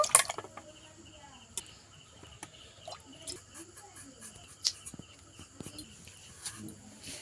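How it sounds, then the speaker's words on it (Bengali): Young eggplant pieces are washed in water, giving scattered small drips, splashes and clinks at close range with no continuous running stream. "বেগুনটা আমি ধুয়ে তুলে নেব"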